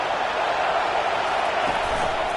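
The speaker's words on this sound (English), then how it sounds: "This crowd bringing the energy and noise early." Crowd at a college football game, a steady loud roar of many voices filling the stadium with no breaks, a broad wash of cheering noise heard alone.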